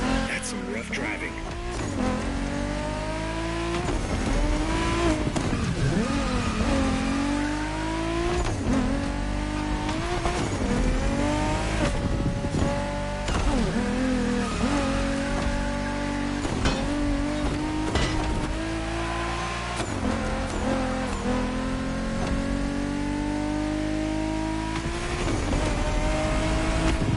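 Race cars driven roughly at a motor fest, engines revving hard with repeated pitch swoops and sharp bursts, under continuous loud talk.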